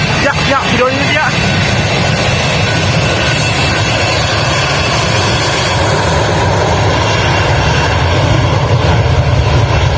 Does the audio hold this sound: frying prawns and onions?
no